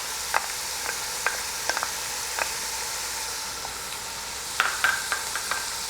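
Minced garlic sizzles in the oil of a pot for Italian-style chicken soup, a soft steady hiss broken by scattered sharp pops and utensil clicks, fairly quiet and close, without speech.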